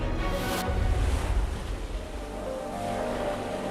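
Ocean waves pound a rugged lava-rock coast on El Hierro, heard as a loud, continuous wash of surf with a heavy crash early on, a low steady rumble beneath and wind noise throughout.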